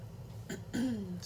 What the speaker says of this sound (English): that throat clearing where I feel like coughing